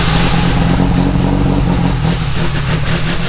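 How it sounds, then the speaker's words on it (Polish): A Ford Focus race car engine runs through a new exhaust tip, giving a loud, close, throaty drone with slight swells in revs and no speech. "Mam założony piękny, nowy, końcowy element wydechu."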